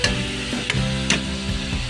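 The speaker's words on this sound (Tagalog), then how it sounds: "Haluin lang po natin na ganyan yan." Utensil stirring Bicol express ingredients with black pepper and seasoning in a pan, steady close scraping and clinking strokes over a continuous sizzle, with two or three sharper knocks against the pan.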